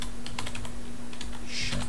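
Short burst of keystrokes on a computer keyboard, several quick close taps in a row under a faint steady hum, with no talk.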